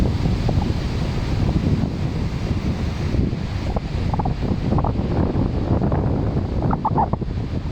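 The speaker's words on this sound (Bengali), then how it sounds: "যেমন ঢেউ তেমন বাতাস।" Large Atlantic Ocean waves roll and crash under strong gusting wind, a steady dense roar of surf and buffeting air filling the whole stretch without pause.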